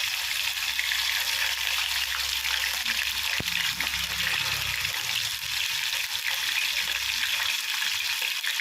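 Continuous hissing sizzle of prawns and fish frying in hot oil in a pan, close and steady throughout, with a brief stir or clink partway through and no talk over it.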